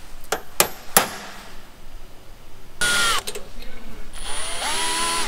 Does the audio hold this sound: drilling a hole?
yes